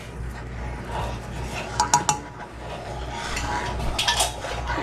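Utensil stirring in a pot of baked-potato filling, a few quick metallic clinks and scrapes against the pot over low background hum.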